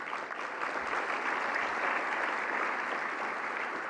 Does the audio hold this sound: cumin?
no